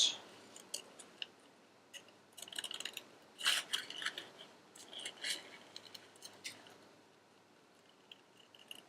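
Paper is snipped with scissors in short, quiet, irregular cuts, with soft rustling between the crisp snips and no talking.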